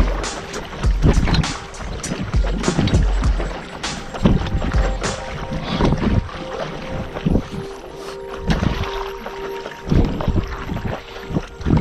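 Gusty wind buffets the microphone on a paddle board out on the water, loud rumbling bursts that rise and fall unevenly, mixed with splashes and knocks from the board and paddle.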